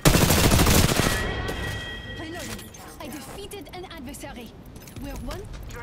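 Apex Legends gunfire, a rapid burst of automatic shots opening loudly at the start, then sporadic shots and clinks continue more faintly beneath game voice lines.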